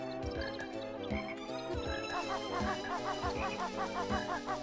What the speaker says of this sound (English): Over there is, like, frogs and stuff.